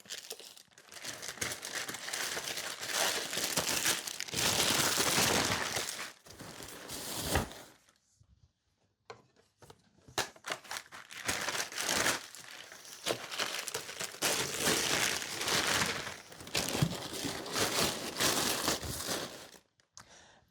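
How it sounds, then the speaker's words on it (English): Packing paper crinkles and rustles loudly and continuously as a fragile item is wrapped for a moving box, pausing briefly midway before resuming, with no talking. "we're still going to wrap it with paper and put it in our box."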